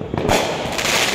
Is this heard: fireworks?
yes